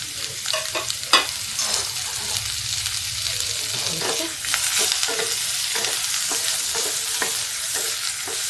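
Okra with chopped onion and cumin seeds frying in hot oil, making a loud, continuous sizzle close by, punctuated by spatula scrapes and clacks against the pan.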